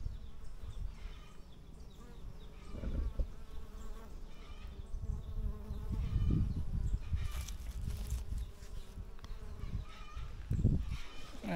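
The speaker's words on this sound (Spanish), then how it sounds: "Parece que les gusta mucho las abejas, andan muchas abejas por aquí." Many bees buzz around a broken object in the countryside, with a steady close droning hum and occasional louder passes near the listener.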